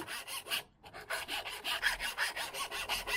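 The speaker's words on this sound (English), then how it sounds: "So you just have to file that out a little bit" A hand file rasps back and forth against a metal bash plate opening on an RC car chassis, steady rhythmic strokes up close with one brief pause.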